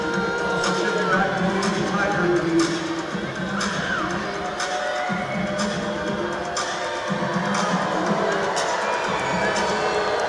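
A home crowd in a basketball arena roars and jeers at a free throw, a loud, sustained wash of voices with rhythmic thumps and whoops while a commentator talks over it.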